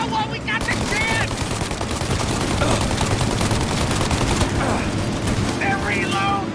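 Rapid gunfire from a shootout in the video game Mafia Definitive Edition, dense sustained bursts of shots crackling continuously throughout at high loudness, with brief voices and tonal game sounds near the start and end.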